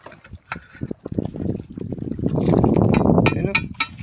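A small boat churns through a strong river current, with a steady broadband wash of rushing water swelling louder midway while voices talk intermittently over it.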